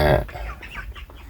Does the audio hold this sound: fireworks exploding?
no